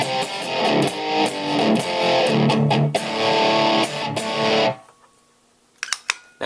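Single-coil electric guitar chords with heavy overdrive and distortion, loud and gritty, ringing out before cutting to near silence with a few faint clicks.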